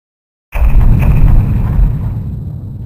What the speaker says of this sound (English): 2 cannon shots can be heard in the distance.